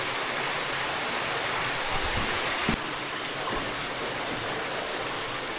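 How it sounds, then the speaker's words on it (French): Water rushes steadily through an underground river inside a mine, a loud, dense, continuous roar with no voices. "On est vraiment dans une rivière souterraine."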